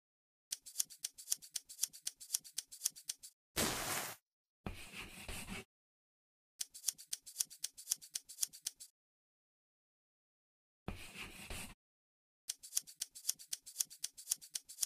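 Scissors snip through fabric in a sewing dress-up game, in three bursts of rapid, crisp cuts separated by brief louder rustling sounds and stretches of silence.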